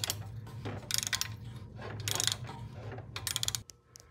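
A ratchet wrench with a 12 mm socket loosens a crash bar fixing on a 2018 Triumph Tiger 800 XCa, with quick clicking bursts in several close strokes, crisp and near, with no talking.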